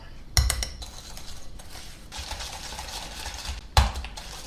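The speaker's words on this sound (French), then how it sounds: "ajouter mon sucre et ma vanille et je mélange pour bien incorporer tous ces ingrédients." Sugar and vanilla being stirred into a creamy mixture in a bowl for almond brioche toasts: two sharp clinks of a utensil against the bowl stand out near the start and end, with soft scraping stirring in between.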